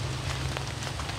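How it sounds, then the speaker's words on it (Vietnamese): Rain falls steadily in Saigon, a dense constant hiss with scattered drop taps over a low hum. "Hiện tại đang mưa"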